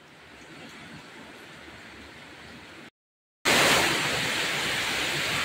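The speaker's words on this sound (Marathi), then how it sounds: "तुफान पाऊस चालू आहे. तुफान हवा बिवा हे बघा." Heavy storm rain with strong wind, a dense constant roar of downpour and gusts, cutting out briefly before returning louder and closer.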